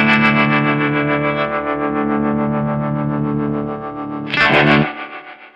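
A clean-toned electric guitar played through a Source Audio True Spring reverb pedal rings out in sustained chords with a shimmering spring tail, ending in a bright strummed flourish that decays away.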